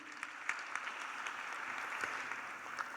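Sustained crowd applause at a 2025 graduation ceremony, many hands clapping in a dense, even roar with a few sharper individual claps standing out, steady and moderately loud throughout, no voices.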